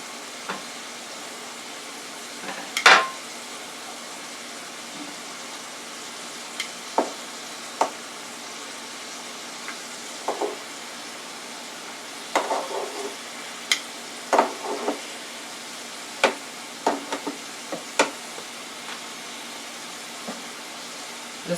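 Sweet potato home fries with peppers and onions cooking in a pan, giving a faint, quiet sizzle broken by scattered crackles and pops and a few sharper stirring clatters spread across the stretch.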